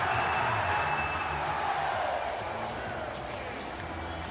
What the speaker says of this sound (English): they can finally cheer and celebrate